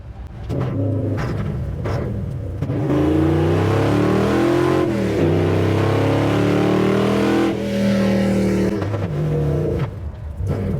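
A race car at a Montana race week accelerates hard, the engine rising through gears in a loud, close roar, then briefly drops and revs again as third gear is missed, before fading back.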